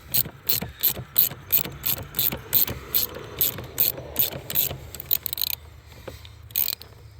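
A ratchet wrench with an extension tightens a 12mm bolt to 35 foot-pounds on a Kia Soul during heater core and dash work, giving a loud, quick run of evenly spaced clicks close by, then slowing to a few final clicks.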